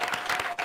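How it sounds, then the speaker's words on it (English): An audience breaks into applause, a brief burst of many hands clapping at moderate loudness that dips for an instant and then resumes. "Give yourselves a round of applause."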